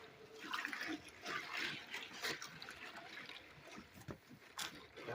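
SD cards stirred in water in a black bucket make faint, soft sloshing and trickling with small splashy bursts throughout.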